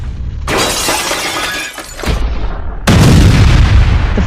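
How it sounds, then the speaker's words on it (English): A missile explosion over New York erupts as a loud, roaring blast with crackling, shattering debris, then swells into a second heavier rumbling surge, with no voices. "Now, fire the missile, Commander."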